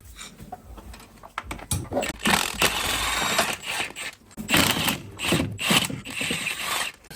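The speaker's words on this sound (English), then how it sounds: "Now it's time to start removing all these bolts that secures the engine assembly." A ratchet wrench clicks rapidly while bolts securing the engine assembly of a salvaged, crashed 2024 Buick Enclave are loosened, with scraping metallic bursts in close, busy rhythm and no talking.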